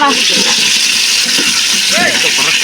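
Whole spices such as cloves, cinnamon, cassia bark and fennel seeds sizzle in hot oil for a biryani, a steady loud hiss filling the clip with a voice talking intermittently over it.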